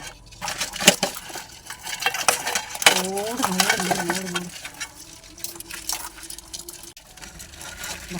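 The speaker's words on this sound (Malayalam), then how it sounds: "ഇത്രയും നമ്മൾ ഫ്രൈ ചെയ്യാൻ പോവാം." A utensil scrapes and clinks against a pan as crab is stir-fried, with irregular metallic knocks and stirring over a faint sizzle, and a voice speaking briefly midway.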